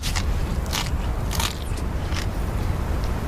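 Loud, close crunching bites into a patty made of locusts, beetles, mantis and moth, several sharp crackly bursts over a steady low rumble, with no talking.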